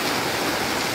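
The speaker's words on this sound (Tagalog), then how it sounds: "Grabe yung lakas ng ulan." Heavy rain pours down in a torrential downpour outdoors near a truck, a loud dense unbroken hiss of water close by with no voices.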